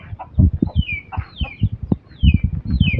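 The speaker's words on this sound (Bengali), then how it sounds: "এই হচ্ছে আমার বাড়ির সবচেয়ে বুড়া মুরগি" Clucking of an old hen at a rural Bangladeshi home, a run of short throaty clucks in uneven bursts with a few higher squawking calls, close and fairly loud, no talking.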